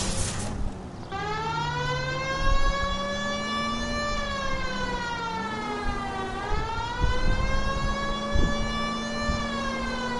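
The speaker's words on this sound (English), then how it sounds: "You know we've got a siren, Phelps." A police car siren in the video game L.A. Noire wails continuously, a loud rising and falling tone that sweeps slowly up and down, heard close with engine noise underneath.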